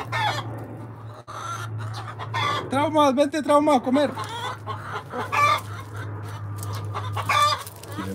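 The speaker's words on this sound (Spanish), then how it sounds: "Aquí vemos todas las gallinas curiosas." Hens clucking and a rooster calling in a farmyard as they peck at grapes. Busy, overlapping clucks sound close by, with someone speaking over them and a steady low hum underneath.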